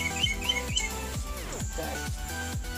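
Repeated soft cooing calls from a zebra dove over a busy backdrop of other chirping birds, steady and fairly close throughout.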